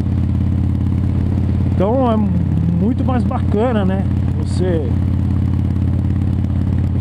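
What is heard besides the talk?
Harley-Davidson Dyna motorcycle engine while riding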